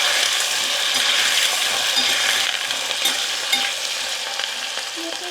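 Potatoes frying in a pan with stirring: a steady, dense sizzle with scraping and clinking, close and loud throughout.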